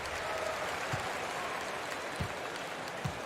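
A raucous home crowd in a basketball video game, Minnesota against the Boston Celtics, fills the arena with a steady, distant wash of applause and cheering, faint and continuous.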